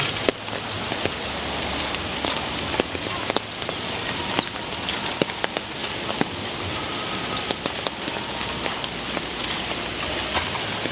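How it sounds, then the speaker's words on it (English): Steady rain patters on a hard surface, dense and hissing, with scattered louder drops tapping close by throughout. "Raining, raining, raining, raining, raining."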